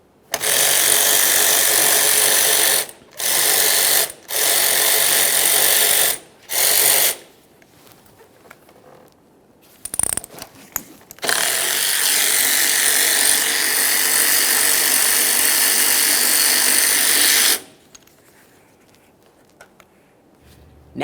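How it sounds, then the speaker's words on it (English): Ratchet spinning off 13mm mounting nuts on a 2011-2021 Jeep Grand Cherokee front air shock, several loud bursts of rapid clicking separated by brief pauses, then one long continuous run before falling quiet. "we're going to remove 2 of our 13mm headed mounting nuts."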